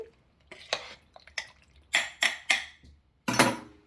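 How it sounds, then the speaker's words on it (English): A spoon scrapes and knocks through sausages and canned apples in a slow cooker, giving a series of short clattering stirs with a few louder clanks against the pot, close and without talk. "Give that a stir."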